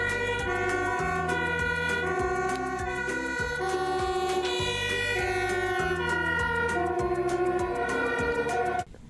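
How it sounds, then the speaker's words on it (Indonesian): A toy fire truck siren wails in a steady electronic melody with a rhythmic beeping pattern, loud and close, cutting off abruptly at the end. "Ini mobil pemadam kebakaran."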